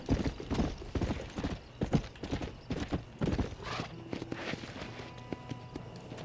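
Horse hooves clip-clop at a steady walking pace in the video game Red Dead Redemption, fairly quiet, with faint background tones and a soft ambient hum.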